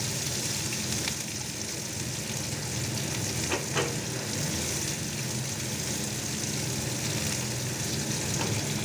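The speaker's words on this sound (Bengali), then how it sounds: "5 ফোড়ন দিয়ে একটু এই পেঁয়াজটা নাড়াচাড়া" Sliced onions fry in a pan with panch phoron spices, giving a dense, steady sizzle throughout. A brief scrape of stirring cuts in partway through.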